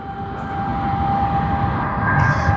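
A Boeing 777 airliner approaching Sydney Airport sends a loud, steady jet-engine roar with a sustained whine over a broad rumble, holding close and constant throughout.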